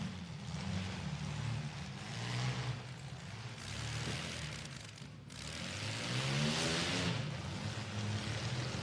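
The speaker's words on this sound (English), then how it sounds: "Mustang wants to run wide open." A Ford Mustang demolition derby car with heavy rear-quarter damage revs its engine at the Cornhusker Chaos 2022 derby, a low droning roar rising and falling in waves, heard from a distance.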